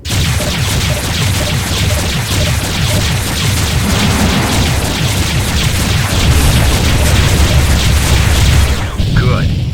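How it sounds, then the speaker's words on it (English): A laser turret in the space combat game Freespace 2 fires relentlessly, a loud continuous barrage of rapid booming blasts and impacts that stops abruptly near the end. "Oh, the laser turret's firing at me."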